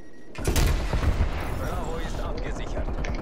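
Gunfire in the video game Call of Duty Black Ops Cold War, on the Crossroads map: a sharp opening burst of loud shots followed by rumbling booms and continuing bursts, with voices talking under the din.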